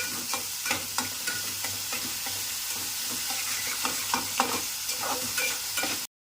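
Onions for a crab curry are sautéed in a pan, a steady sizzle with repeated scraping strokes of a spatula at close range, continuing evenly until a brief cut to silence at the very end; nobody speaks.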